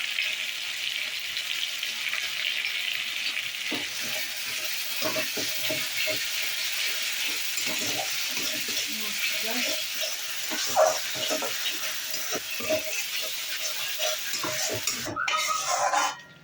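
Cauliflower and potato being sautéed with salt and ginger paste in a pan, continuous soft sizzling under repeated scraping and stirring strokes of a spatula, with a louder clatter near the end.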